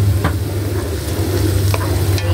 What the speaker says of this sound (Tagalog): Igisa po natin.